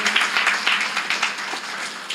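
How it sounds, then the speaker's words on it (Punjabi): A church congregation applauds loudly, a dense, steady wash of many hands clapping together for about two seconds with no voices on top. "ਪਰ ਇਹਦੇ ਲਈ ਜ਼ੋਰ ਦੀ ਤਾੜੀ ਵਜਾਉਣੀ ਜੇ"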